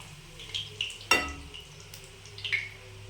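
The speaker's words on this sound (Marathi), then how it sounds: "अशा सगळ्या आता पुऱ्या तळून घ्यायच्या आपण." Sweet potato puris frying in hot oil, a soft steady sizzle with a few brief crackles and one sharp pop near the middle, close and fairly quiet with no talking.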